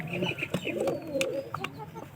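Caged pigeons being paired for breeding coo in soft, repeated throaty rolls close by, with light fluttering and small clicks mixed in.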